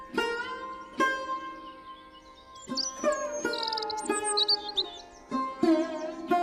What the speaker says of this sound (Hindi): तभी वहां पर मैना पक्षी आ गई।